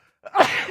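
A single sharp human sneeze, close and fairly loud, with a quick intake followed by the burst and a short trailing breathy tail.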